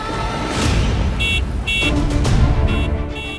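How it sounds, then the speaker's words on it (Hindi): A car horn beeps in short bursts, four clipped honks spaced unevenly over a steady background hum, moderately loud and close. "गाड़ी के हॉर्न की आवाज कहाँ से आ रही है"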